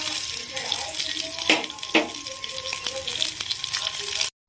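Chopped green chillies and coriander leaves crackling in hot oil for a tomato pachadi, a close steady sizzle with a few sharp spatula scrapes, then a sudden cut to silence.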